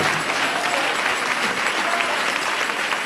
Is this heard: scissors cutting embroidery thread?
no